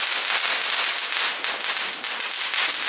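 Firecrackers burst nonstop on Diwali evening, a loud, dense crackle of rapid pops close by that fills the whole stretch with no talking.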